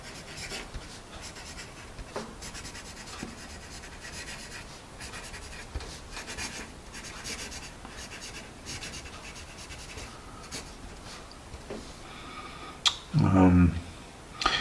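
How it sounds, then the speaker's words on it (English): A Shahsons Goldfish Autocrat pencil being written with on paper, soft continuous scratching and rubbing strokes with faint clicks, heard close and quiet while a person talks, with a louder burst of handling noise near the end. "It's a little bit lighter, but we'll write some more."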